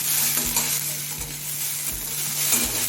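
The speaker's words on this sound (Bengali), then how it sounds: "এখন মিডিয়াম করে পুঁইমেটিলগুলো নাড়তে নাড়তে কিছু সময় ভেজে নিতে হবে" Malabar spinach stems stir-fry over medium heat, with a steady close sizzle and about four distinct scraping strokes of a spatula against the pan at regular intervals.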